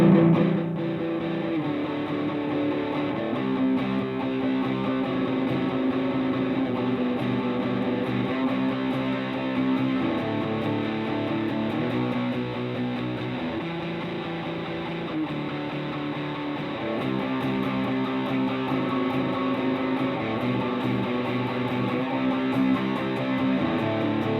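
Distorted electric guitar chugging through power chords in a steady rhythm, loud and close, with the chord shape changing every few beats and no voices.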